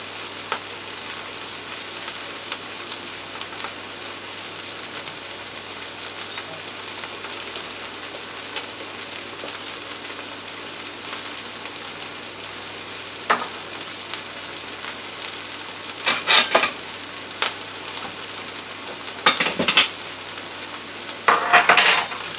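Bean sprouts and jasmine rice stir-fry in a hot pan with spicy Thai-style seasoning, a steady close sizzle broken by sharp bursts of stirring and scraping toward the end.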